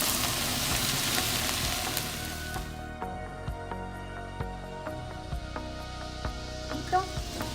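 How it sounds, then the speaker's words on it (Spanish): Beans and mote sizzle loudly in a hot refrito in the pan, a dense crackling fry that eases off into softer stirring clinks and scrapes. "También vamos a poner en este refrito, tengo aquí el frijol."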